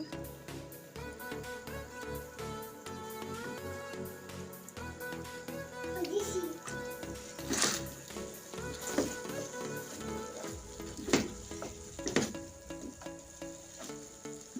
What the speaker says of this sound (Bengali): এখন আমি ভেজে রাখা চিকেনগুলো দিয়ে দিচ্ছি